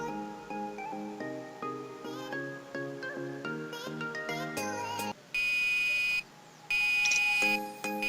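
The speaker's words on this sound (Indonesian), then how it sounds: "buzzer akan berbunyi sampai muatan dikurangi dengan batas standarnya" A melodic electronic chime plays, then a steady high overload warning buzzer sounds in two long bursts separated by a brief pause.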